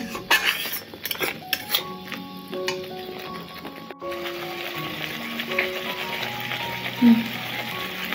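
Masala being stirred together with onions in a pan for a duck curry, heard as repeated clinks and scrapes of a utensil against the metal pan, with background music throughout.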